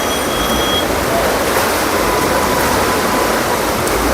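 Flood water rushing through a rain-hit area, a steady loud broadband roar with no pauses and no talk.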